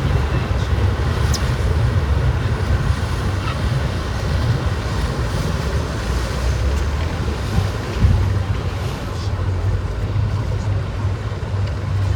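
A motor boat with a homemade engine crosses open sea between islands: a steady low engine drone runs throughout, mixed with loud wind buffeting and the rush of water against the hull.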